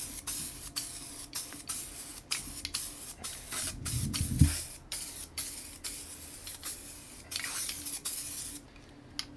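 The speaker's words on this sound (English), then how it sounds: "So now the component is sprayed." Spray glue adhesive is applied to the carpeted side of a saddlebag lid component in bursts of close, steady hissing. Short pauses separate the bursts, with one louder, longer spray near the middle.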